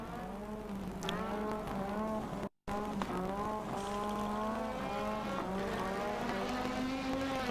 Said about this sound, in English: A lot of spinning wheel now